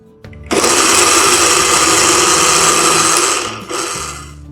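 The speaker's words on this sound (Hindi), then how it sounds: "अब इनको हम ग्राइंडर में डाल लेते हैं, तो साथ ही हम दूध डाल लेते हैं।" A kitchen grinder whirs loudly as it blends milk with condensed milk, a harsh mechanical roar that starts abruptly, holds steady for a few seconds, then winds down and cuts off.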